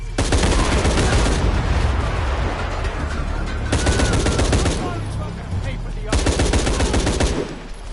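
Video game gunfire rattles in loud, dense automatic bursts, three long volleys separated by brief lulls, with a voice briefly audible amid the shooting.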